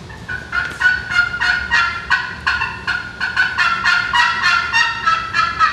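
A turkey call yelps in a rapid, steady series of raspy high notes, loud and close, with no talking.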